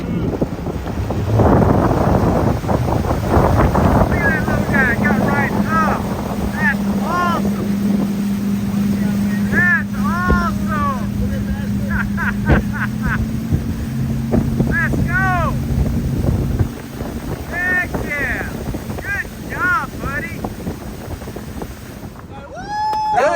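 A motorboat engine drones steadily with wind buffeting the microphone, while voices talk and shout over it throughout.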